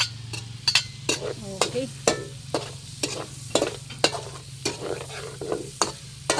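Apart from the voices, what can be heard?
onion and garlic frying and stirred in oil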